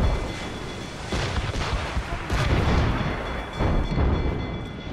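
Cannons fire in a naval battle, heavy booming blasts that come in repeated waves with rumbling roar between them, loud and close.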